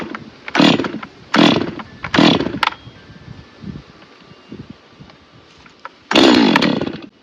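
A Neotec NS-846 chainsaw, a Stihl MS-250 clone, is pull-started on choke. Three loud rasping pull-cord bursts, quieter sputtering, then the engine fires and runs at a strong steady roar, all close.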